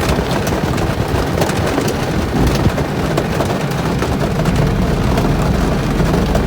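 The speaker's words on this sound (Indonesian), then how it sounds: "tiba-tiba hujan teman-teman." Heavy, steady rain roars loudly and continuously, a dense wash of noise with a low rumble underneath, falling suddenly during a Grab ride-hailing drive from Klaten back toward Jogja.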